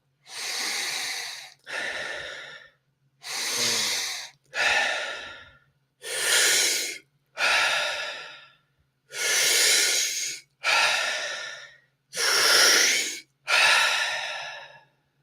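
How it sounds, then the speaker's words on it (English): Deep, forceful breathing during a guided breathwork session: about five full cycles of long inhales each followed by a long exhale, close and steady, with short pauses between breaths. "About 10 more breaths here. Filling up those lungs and letting it go."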